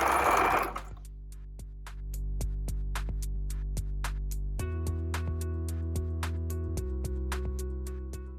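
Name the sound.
sewing machine stitching a back tack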